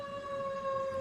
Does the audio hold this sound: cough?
no